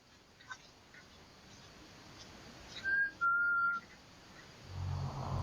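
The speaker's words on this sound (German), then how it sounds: "The sound of someone whistling is heard clear as day on camera." Two short, clear whistled notes from a person, the second held slightly longer, over quiet background hiss, followed by a low rumble.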